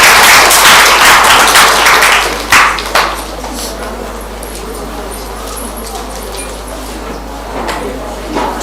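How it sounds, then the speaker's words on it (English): Audience applause at a career fair, a dense burst of clapping from a crowd that fades after a few seconds into scattered claps and room murmur. "A big round of applause for Mr. Girish B."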